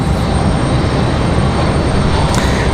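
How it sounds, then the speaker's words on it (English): A Delta airliner departing from the runway at Raleigh-Durham International, a loud, dense, continuous engine roar that stays steady and broadband throughout. "Delta gonna follow runway heading there"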